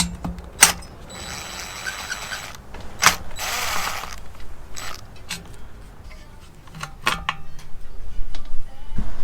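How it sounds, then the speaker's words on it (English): A light fixture is taken apart by hand, with close sharp clicks and taps from unscrewing screws and prying out its reflector, scattered irregularly amid brief scraping and rustling. "Flip it over, you unscrew 1, 2, 3, and carefully try to pry it out."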